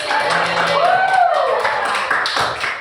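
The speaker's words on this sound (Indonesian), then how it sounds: "Sekarang tepuk tangan dulu." Hands clap together in a classroom during a lesson, a fairly loud patter of claps mixed with children's voices and chatter throughout.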